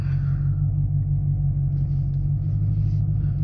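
A Chevrolet Camaro SS fitted with a Cherry Bomb Extreme exhaust idles with a steady, heavy low rumble, close and loud and unbroken throughout, with no voices over it.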